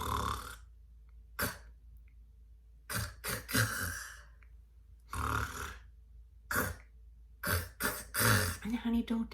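A comedian vocally imitates a husband's stalled-engine snore: a series of short, harsh sputtering bursts and choked snorts separated by pauses, close and fairly loud, with a few clustered rapid bursts toward the end.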